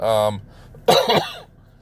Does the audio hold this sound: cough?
yes